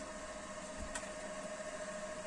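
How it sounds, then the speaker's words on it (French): A portable power station's ventilation fan runs steadily indoors, a constant broadband whoosh with a faint tonal whine and one brief tick, no voices. "Ce que tu entends, c'est la ventilation"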